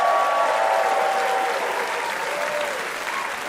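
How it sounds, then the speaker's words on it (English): Sustained applause from an audience, dense clapping throughout that fades slightly toward the end. "By your applause, who agrees with Bruce's no change chatter?"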